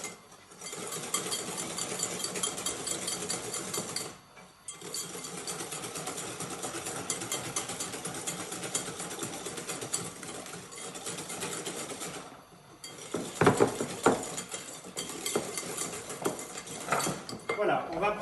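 A whisk clatters steadily against a bowl as sugar and egg mixture is beaten pale for an Easter dessert, a continuous metallic rattle with two brief pauses and a louder scraping burst near the end.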